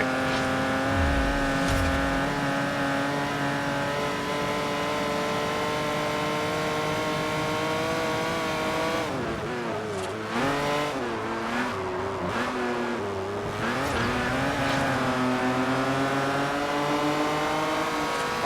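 Racing car in Forza Horizon accelerating hard, its engine note climbing steadily through the gears with sharp shifts and brief tire squeals around the middle, loud and continuous with no talk.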